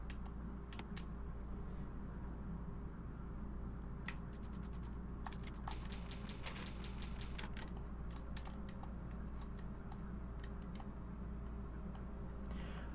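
The typewriter save point in a Resident Evil game clacks in a run of quiet, quick keystrokes over a low steady hum, with irregular taps and no voices.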